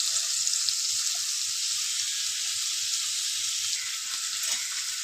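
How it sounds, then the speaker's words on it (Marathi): Capsicum and onion sauté in hot oil in a pan for bhindi bhaji, giving a steady, loud sizzling hiss with faint stirring scrapes and no talking. "आपली शिमला मिरची आणि कांदा मस्त परतून झालाय।"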